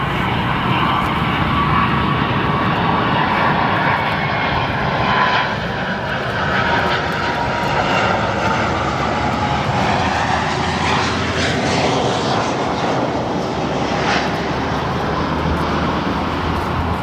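A 20-year-old Airbus A330 arriving from Stockholm lands at O'Hare, its loud engine roar swelling and then rising as thrust reversers engage, a broad continuous rumble heard from outside at moderate distance.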